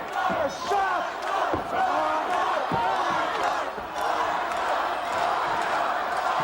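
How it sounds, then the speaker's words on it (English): A 1985 WWF wrestling arena crowd jeers and shouts at a ringside manager, a loud, dense, continuous roar of many voices with swelling peaks and a few sharp thuds, heard from within the crowd. "There goes the crowd again. They're on Heenan's case."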